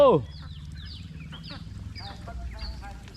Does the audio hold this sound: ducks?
yes